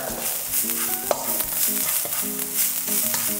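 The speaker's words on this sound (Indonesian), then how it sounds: "goreng bawang ini dulu ke kuning-kuningan" Onions sauté in hot oil in a pan, a steady close sizzle broken by repeated scraping and clinking stirs of a utensil against the pan.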